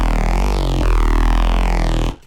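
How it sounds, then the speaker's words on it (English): A sci-fi neurofunk bass patch built in the Vital synth plays alone without drums, a dense, resonant, buzzing tone with shifting filter sweeps for about two seconds before cutting off abruptly. "Here's a cheeky analog resonancy sci-fi sounding Vital Bass,"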